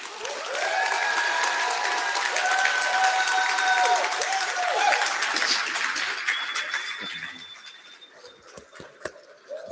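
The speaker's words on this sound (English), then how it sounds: "let's give a big round of applause for Mark Techson" A crowd applauds a keynote speaker at a conference, a loud sustained wash of clapping with whistles and cheers mixed in, gradually thinning out toward the end into scattered claps.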